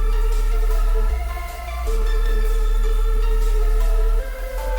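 A plucked Vox synth melody from Serum rings out with reverb tails and echoing delay repeats, steady and continuous with a low bass note underneath, no voices.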